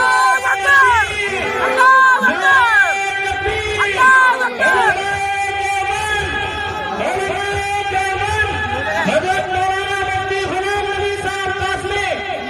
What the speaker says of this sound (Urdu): ہم حضرت کا استقبال نعرے کے ساتھ کرتے ہیں، نعرہ تکبیر